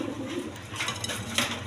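A pair of Danish pigeons, one black and one white, give soft, low coos in a short burst, close by and faint.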